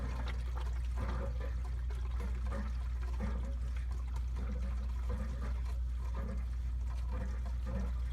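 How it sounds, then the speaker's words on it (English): Water pours and trickles into a cascade pond filter once its valves are opened, a continuous steady gush with a low hum underneath and no voices. "Now when I open these, it's going to start filling water up automatically."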